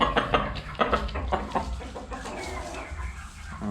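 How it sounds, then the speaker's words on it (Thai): Black chickens kept as hybrid laying hens on a farm cluck and squawk in repeated short bursts, fairly close and loud, several birds calling over a noisy yard background. "เป็นไก่ดำ ครับ ไก่ดำ"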